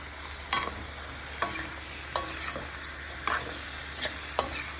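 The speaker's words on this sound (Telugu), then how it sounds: "అన్నీ వేసేసుకొని ఇలా కొంచెం సేపు కలపాలి" Chicken curry with chopped mint, coriander and curry leaves stirred in a hot pan, a soft steady sizzle broken by about six sharp scraping strokes of the spoon at irregular intervals, close by, with no voices.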